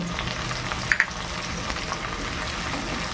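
Onions frying lightly in a pan give off a steady, soft sizzle with a constant hiss throughout and a couple of faint clicks partway through, with no voices.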